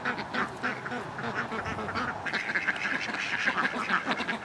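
A duck quacks repeatedly nearby, with a steady run of fairly loud quacks over a background of other fowl calls.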